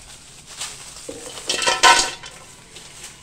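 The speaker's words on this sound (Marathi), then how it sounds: "आता आपण बेडगी मिरच्या भाजतोय." Byadgi chillies are dry-roasted and stirred in a pan, with soft scraping and rattling that swells into a short, louder clatter midway before settling again.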